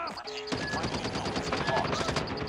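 Rapid automatic fire from an M4 LMG in the mobile shooter Call of Duty Mobile, a dense, continuous stream of shots starting after a brief pause and running loud and steady to the end.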